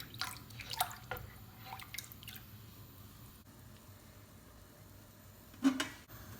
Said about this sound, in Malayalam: രസം തിളച്ച് വരുന്നുണ്ട്.